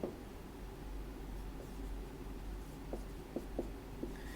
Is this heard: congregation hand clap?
no